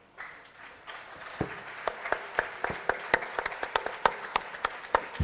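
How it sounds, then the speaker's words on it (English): Audience applause at a national student entrepreneurship summit as a university team is called up for a trophy, steady clapping building over a few seconds with sharp individual claps standing out near the microphone. "And as we clap for them."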